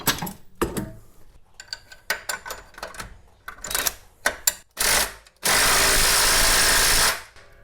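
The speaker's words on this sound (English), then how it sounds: "I'm going to tighten that bolt and tighten this bolt" Power tool tightening control arm bolts on a Dodge Charger, with scattered clanks and short bursts leading to a brief whirr and then a sustained loud, steady run lasting about two seconds before cutting off.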